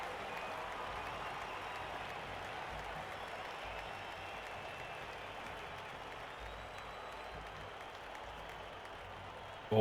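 Crowd of fans in the Blood Bowl 3 video game cheering and applauding in a steady, continuous roar that holds at an even level throughout.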